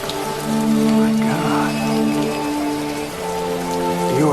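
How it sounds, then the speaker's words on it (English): Rain falling in a movie scene, a steady loud patter and hiss of drops on surfaces lasting throughout, with tonal music or hum layered underneath. "this was a cool scene, the rain scene where he sees her face"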